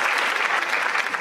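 A short wash of crowd applause in a children's story, many hands clapping evenly at moderate loudness for just over a second, with no voices.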